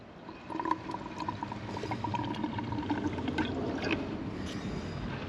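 AdBlue diesel exhaust fluid drains from a bottle into a vehicle's tank, giving a steady close-up liquid pouring and gurgling sound with small drips and trickles, moderately quiet, with no talking.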